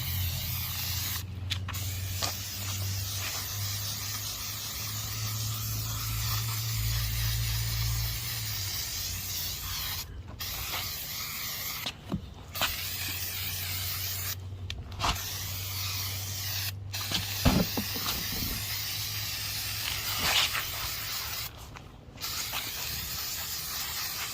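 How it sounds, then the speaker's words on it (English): Repeated bursts of hissing spray of paint stripper onto a Foxbody Mustang plastic interior part, short and long pumps with brief pauses between them, close by over a low steady hum. "let me spray this entire thing"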